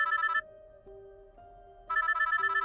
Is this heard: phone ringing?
yes